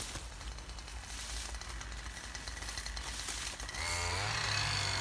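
Strimmers cutting vegetation in an old cemetery on Romon Road, Blackburn: a steady buzzing engine drone that grows louder and higher near the end, with no talking.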